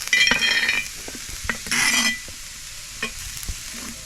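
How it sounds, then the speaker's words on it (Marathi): Onion being roasted and stirred in a pan over a wood-fired stove, with spatula scrapes and metallic clinks over a soft sizzle, plus two louder bursts of frying hiss; no talking. "कांदा पण आपल्याला असा लाल करून घ्यायचा आहे बघा कसा भाजलाय"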